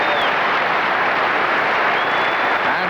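A large arena crowd at a 1982 USA versus USSR gymnastics meet claps after a routine, dense, sustained applause and cheering filling the space.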